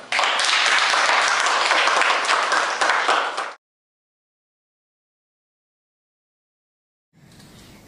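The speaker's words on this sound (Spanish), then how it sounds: "Un aplauso para Dani" Applause for a student in a school radio program, a loud close burst of many hands clapping for about three and a half seconds that stops abruptly, followed by silence and then faint talk.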